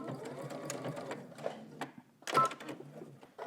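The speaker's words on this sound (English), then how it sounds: "Back stitch at the beginning. Back stitch at your dot." A sewing machine runs in short bursts as it back stitches a 5/8-inch seam on a Simplicity S9917 garment, stopping and restarting with a brief pause before a louder final burst, close up.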